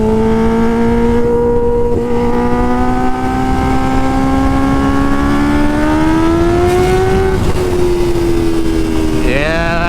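A Kawasaki Ninja H2 motorcycle rated at 240 hp, its engine droning steadily at high revs as the pitch slowly climbs, then dips and sweeps up sharply near the end, loud and close with a voice speaking faintly underneath.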